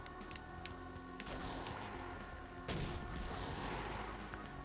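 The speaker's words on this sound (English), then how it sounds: "We're shooting these skulls out." Gunfire blasts at skulls in a Fantastic 4 video game: a few sharp booming shots punctuate the game's music, with a heavier impact near the middle.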